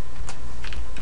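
A few quick keystrokes on a computer keyboard, three short clicks typed close by in about a second.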